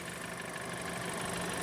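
2022 Mercedes C 300 engine idling under an open hood, a smooth, steady, even hum with no variation, heard up close and alone.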